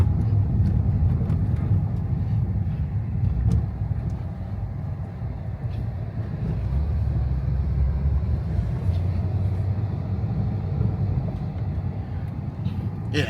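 A car driven for the first time by its new owner, heard from inside as a steady low engine and road rumble that holds throughout, with a slight dip in the middle.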